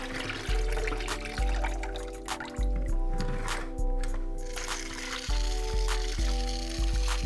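Raw chicken is rinsed under fresh running water in a kitchen sink, with repeated gushes of flowing water, splashing drips and wet squishing as the pieces are handled close by.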